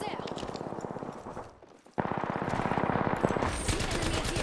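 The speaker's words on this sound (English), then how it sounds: "The enemy is here. Opening fire. Shots." Automatic gunfire in the Apex Legends video game, with rapid bursts of shots that drop off briefly, then return loud and dense, with game effects mixed in.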